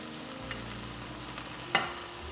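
Kashmiri mutton and cauliflower curry browns and sizzles in a pan, a soft steady frying hiss broken by a few light scrapes and one sharper clack of a spoon against the pan.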